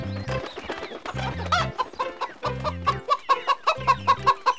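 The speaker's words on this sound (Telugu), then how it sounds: "కోడియమ్మ, పిల్లలతో ఎక్కడికి?" A cartoon hen clucking in short, bouncy bursts, a rhythmic series of bright clucks that speeds into rapid repeated calls toward the end, with light musical accompaniment underneath.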